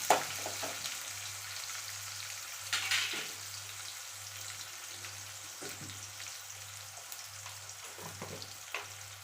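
Onion frying in a pan for chicken sukka gives a steady, quiet sizzle with a few sharp clinks and scrapes of stirring and a low electrical hum beneath.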